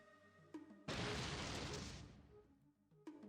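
Dynamite detonates in the game Fallout 2, a sudden loud blast that roars and slowly fades over about two seconds, set against quiet game music.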